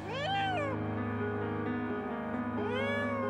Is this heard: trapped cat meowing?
yes